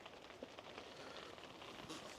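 Rain patters steadily on the fabric of a Cabela's ice fishing hot tent at an ATV campsite, a dense continuous hiss of drops with no voices.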